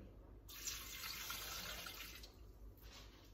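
Water poured into a Thermomix bowl holding a marrow bone, clove-studded onion and carrots for pot-au-feu, a close splashing pour that starts after a half-second pause, runs steadily, then briefly eases before resuming.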